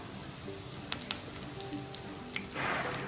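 Mustard seeds, cumin and curry leaves hit hot oil for bread pakoda, giving a faint crackling sizzle with scattered pops and clicks and a brief louder burst of spitting near the end.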